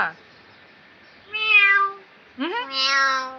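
A pet cat close by gives two drawn-out, rising-and-falling meows separated by a short quiet gap, the second one longer and brighter than the first.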